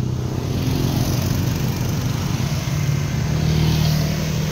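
A motor tricycle engine rumbles steadily at close range on a Philippine street, a continuous low drone with slight swells and no speech.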